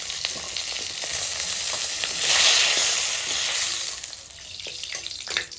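Small local fish sizzles steadily as it is lightly fried in hot oil, the hiss swelling louder midway before settling, with a few faint clinks and scrapes.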